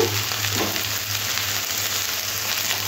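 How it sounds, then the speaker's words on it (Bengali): Potatoes fry in oil in a pan for a potato and okra dish, giving a loud, constant sizzle and crackle that stays even throughout, with no talking. "নরম হয়ে যাওয়া অবধি আলুটা ভাজতে হবে"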